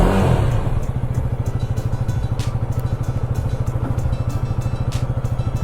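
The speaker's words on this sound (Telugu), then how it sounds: "బండి స్టార్ట్ చేసి ఎగ్జాస్ట్ నోట్ వినండి" A KTM Duke 250 Gen 3 motorcycle idles right after starting, its single-cylinder exhaust putting out a steady, rapid thumping pulse, loud and close, with faint clatter and no talking.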